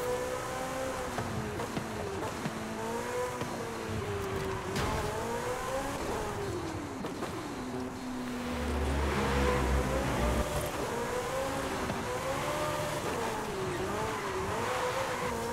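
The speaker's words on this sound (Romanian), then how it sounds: "deci în treapta a patra mașina asta poate să rupă tracțiunea atât de ușor" A 2023 Porsche Turbo S Brabus accelerates hard in fourth gear and breaks traction. Its loud engine note climbs and dips in sweeping waves, with a heavier surge midway through.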